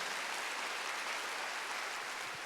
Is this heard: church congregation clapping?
yes